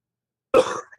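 A single sharp cough bursts out after a second of silence, loud and close, trailing off into a brief rasp.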